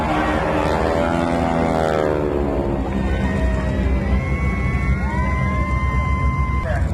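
GEICO Skytypers propeller airplanes at an airshow in Stuart, Florida pass low overhead with a loud, steady droning roar whose pitch shifts as they go by, while someone talks over it on a public address.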